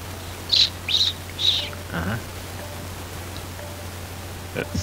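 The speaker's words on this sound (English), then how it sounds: "What kind of bird makes a noise like that?" A pet bird calls in the background of a gaming chat, with three short, bright chirps in quick succession, a softer chirp near the end, and a brief rustle between them over steady low hum.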